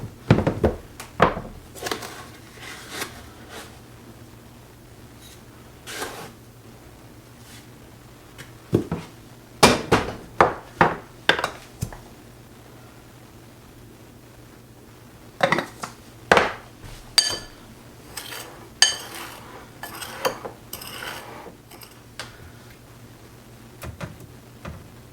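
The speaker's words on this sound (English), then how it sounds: "I'm going to mix up some cinnamon sugar here just to make it easier" Cinnamon sugar being mixed in a bowl, scattered clinks and scrapes of a utensil against the dish in irregular clusters with quiet pauses between them, close and fairly crisp.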